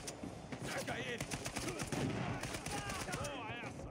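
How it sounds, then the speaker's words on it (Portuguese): Rapid bursts of machine gun fire from the video game Uncharted 4, loud and continuous through the clip, with overlapping gunshots and people talking in Portuguese over the shooting. "Tirou com um monte de tiro"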